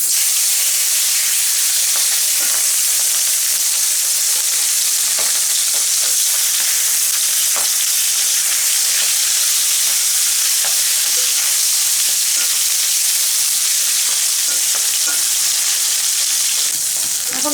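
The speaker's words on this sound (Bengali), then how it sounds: "এখন আমি মাছগুলো ভেজে নেব।" Tengra fish fry in hot mustard oil in a pan, a steady, loud sizzle and hiss with scattered small pops and crackles throughout.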